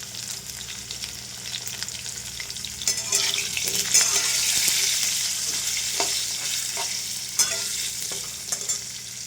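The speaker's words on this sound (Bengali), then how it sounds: "লাল করে আলুটা ভেজে নিলাম, আলুটা তুলে নিলাম।" Potatoes fry in hot oil with turmeric and salt, a continuous close sizzle with occasional scrapes and stirs of a spatula, no voices.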